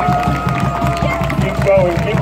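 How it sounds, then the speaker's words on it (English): An audience in Oahu, Hawaii claps along in a steady, even rhythm, a crowd of hands beating together close by with a lively hum of voices around it. "Everybody clap along."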